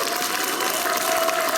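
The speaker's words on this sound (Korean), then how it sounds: "박수 한번 쳐야 되는 거 아니겠습니까?" An audience claps at a Korean political talk show event, a dense, even burst of applause filling a short stretch without voices.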